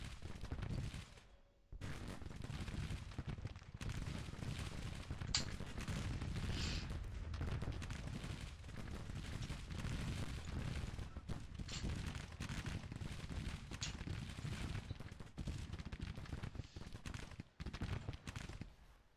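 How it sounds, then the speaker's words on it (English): Troops firing while falling back: dense, continuous volleys of gunfire with rapid overlapping shots and thudding bursts, loud and sustained, briefly dropping out near the start before resuming. "They're firing and falling back."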